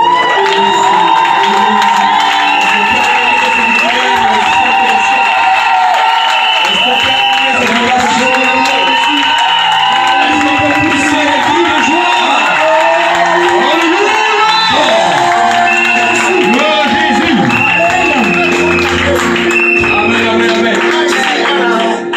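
Church congregation at a prophetic worship service cheering, shouting and applauding in praise, a loud, continuous crowd roar with clapping, whoops and voices that holds steady for over twenty seconds.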